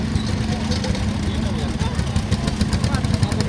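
Ursus 28 tractor engine idling at a vintage machinery show in Wilkowice, a steady low chugging rumble with dense continuous noise, fairly loud and constant throughout.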